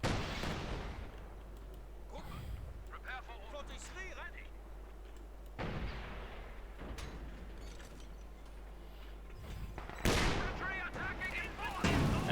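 Artillery and gunfire in the World War II strategy game Company of Heroes 2, with heavy booming shots and rattling fire recurring under steady spoken commentary.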